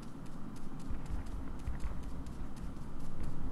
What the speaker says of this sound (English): I thought I heard footsteps.